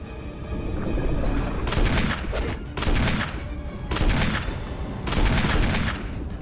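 Magnum shots boom out in Resident Evil HD, four heavy, loud blasts spaced about a second apart, each with a short echoing tail.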